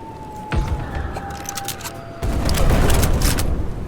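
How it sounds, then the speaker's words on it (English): Rumbling orbital bombardment explosions from the video game Black Skylands, with a sharp blast near the start and a heavier sustained barrage in the second half, loud and dense, with no talking. "he will stop the constant orbital bombardment"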